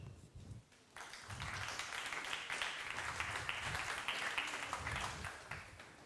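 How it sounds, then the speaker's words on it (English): Applause from a conference audience after a product lead is introduced, a steady even patter of many hands starting abruptly after a brief pause and holding at moderate level. "please give a round of applause to Informal Systems product lead Adi"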